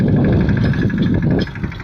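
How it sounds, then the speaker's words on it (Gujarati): A loud tractor engine idles and chugs steadily and close by, its low rumble dipping slightly toward the end. "આ ક્રિશ કુમાર હે ને ટ્રેક્ટર લઈને જાય"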